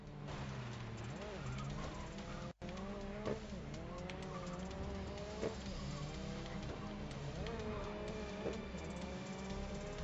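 Race car engine sound from Grid Legends at the start of a race, a steady loud engine drone with shifting pitch and some tire noise, running continuously with a brief dropout, and a voice talking over it.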